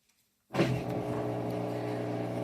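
A Whirlpool WTW4816FW3 washing machine starts up abruptly from silence into a loud, steady droning hum with strong low tones that holds without talk.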